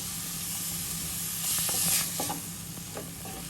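Watermelon rind thoran cooking in a pan on a low flame, a steady soft hiss and sizzle broken by several light scraping stirs, close by.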